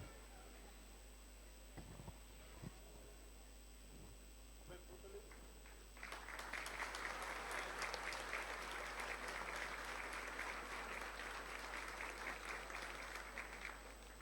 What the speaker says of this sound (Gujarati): સાહેબને જોરદાર તાળીઓથી વધાવીએ